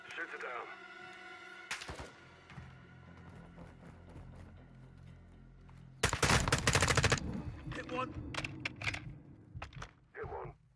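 Gunfire in Call of Duty Modern Warfare II on a warehouse mission, heard as bursts of rapid shots, with a loud dense volley midway and sharper cracks toward the end, mixed with game sounds and voices.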